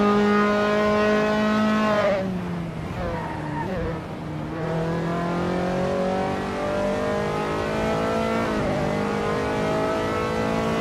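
Several Dallara F312 open-wheel race cars in Assetto Corsa rev hard at a race start at Kyalami 1976, loud whining engines climbing through gears with sharp shifts, a dip in pitch midway, then rising again.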